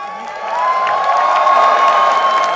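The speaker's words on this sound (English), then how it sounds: "One more round of applause for these two teams." A large esports crowd at a Dota 2 grand final at ESL One New York 2014 cheers and applauds loudly, a steady roar of clapping and whoops that swells after a moment and stays sustained.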